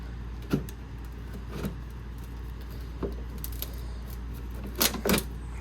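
Sheet metal for a custom box downspout being cut with hand snips, a few sharp isolated snips and clicks spaced apart over a low steady hum, with a quick double cut near the end.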